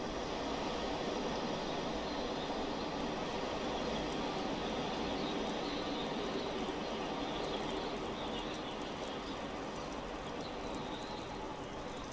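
Cold mountain wind blows steadily in The Long Dark, a dense, continuous rushing roar that fills the whole stretch at an even, unbroken level with no voices.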